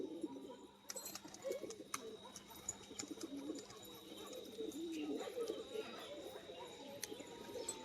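A male Fulshira pigeon coos in soft, low, repeated phrases close by, with faint clicks and light background noise throughout.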